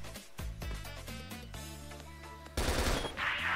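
Automatic weapons fire in bursts during a CrossFire shooter match, rapid repeated shots over game sounds, swelling into a louder, harsher barrage toward the end.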